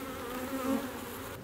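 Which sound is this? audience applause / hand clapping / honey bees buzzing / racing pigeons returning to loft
honey bees buzzing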